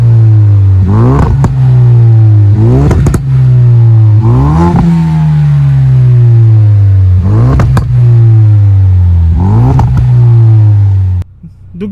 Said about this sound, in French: en écoutant d'abord, bien sûr, le son à l'échappement